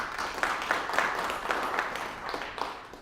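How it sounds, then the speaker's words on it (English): Audience applause at an engineering presentation on construction value management, steady moderate clapping from a crowd throughout, somewhat distant and even. "We have a huge round of applause for that."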